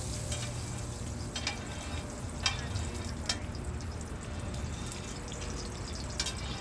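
Roti fries in margarine on a flat griddle, giving an even, continuous sizzle with occasional small crackles and ticks and no talking.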